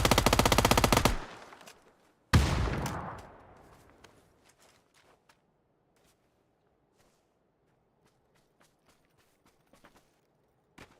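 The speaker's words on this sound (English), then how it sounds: "using a FAMAS." A FAMAS rifle in the PUBG video game fires two loud, rapid full-auto bursts up close, each trailing off in echo, followed by quiet scattered ticks and footstep-like taps.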